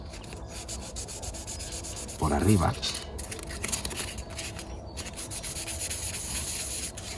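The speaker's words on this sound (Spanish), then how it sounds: "Le pasamos lija muy fina" Very fine sandpaper rubbed over a Nintendo 64 console case during repainting, a steady soft scratchy rasp running throughout with a louder, coarser burst of strokes near the middle, while someone talks over it.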